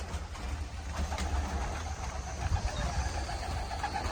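Pigeons flying and cooing at a home loft after a friendly pigeon-flying contest, soft coos and wing flutters mixed into a steady low outdoor rumble, no voices.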